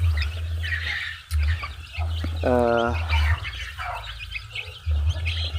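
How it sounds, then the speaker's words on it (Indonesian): Free-range village chickens cluck softly and intermittently up close while eating, with one louder cackle partway through, over a low steady hum of background noise. "Ini sambil nungguin ayam makan."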